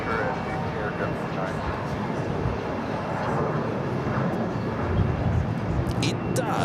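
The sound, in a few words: aircraft departing from JFK airport runway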